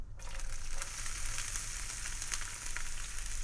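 Onions dropped into hot oil with toasted seeds for aloo matar, sizzling loudly and steadily with a continuous hiss and scattered small pops.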